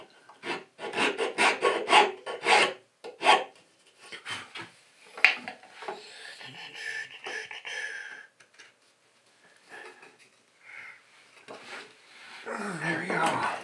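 A wooden pentagonal box with dovetail joints is rubbed by hand in a series of dry, rasping strokes that come in bursts and pauses, close and fairly quiet, with talking in between.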